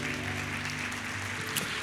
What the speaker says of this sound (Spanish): Da un aplauso a nuestro Dios.